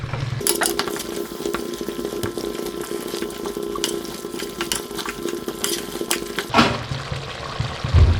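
Chicken stock poured into a pan for a wine-braised beef roll, a steady close liquid stream with light stirring and utensil clinks, changing in tone near the end.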